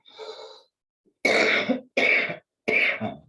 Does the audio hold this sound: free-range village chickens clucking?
no